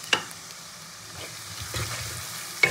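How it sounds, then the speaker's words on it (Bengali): Onions fry in a pan for chicken do pyaza, a quiet continuous sizzle punctuated by a couple of sharp utensil knocks at the start and end. "তো পেঁয়াজটা খুব ভালো করে ভেজে নেব"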